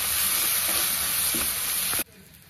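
A masala mixture for a brinjal and drumstick curry fries loudly in hot oil with a dense, close sizzle and a few stirring scrapes, then cuts off abruptly near the end.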